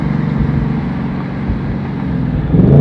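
A 2024 Ford Mustang S650 Dark Horse engine blips its revs on a rev-matched downshift, a steady close rumbling drone that swells louder near the end with no talking.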